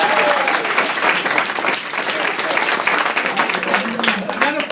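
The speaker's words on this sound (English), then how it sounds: "he gets an applause all by himself" Guests at a 90th birthday party applaud a single guest. The clapping is dense and sustained throughout, with faint crowd voices mixed into it.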